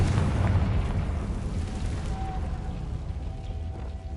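A Confringo explosion spell in Hogwarts Legacy, heard as a dense, loud, rumbling blast that gradually dies away into a steady low roar.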